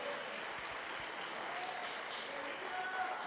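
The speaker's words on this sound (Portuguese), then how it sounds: "pode aplaudir com força." An audience at a church sermon claps in a dense, even burst of applause that sounds faint and somewhat distant throughout.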